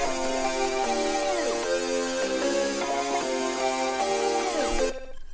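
A synth lead treated with flanger and looperator effects in FL Studio plays a repeating, sweeping melodic phrase with bending, wavering tones, steady and prominent with no voices, stopping abruptly near the end.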